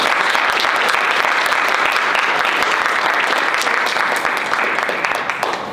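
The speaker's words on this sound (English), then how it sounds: "let's give a round of applause" Sustained, dense applause from a conference audience after a Ukraine security panel, loud and even throughout, tapering slightly at the end.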